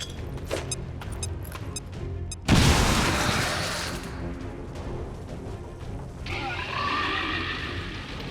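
A frag grenade explodes in XCOM 2, one sudden loud blast that decays into a long rumbling tail, with game ambience before and after.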